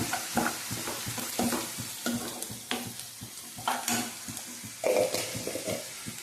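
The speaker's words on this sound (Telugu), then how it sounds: "ఉల్లిపాయలు అయితే బాగా వేగుతూ ఉన్నాయి ఎర్రగా." Onions browning with turmeric sizzle steadily in a pan while a spoon stirs and scrapes repeatedly, close up and rhythmic, with no voices over the cooking.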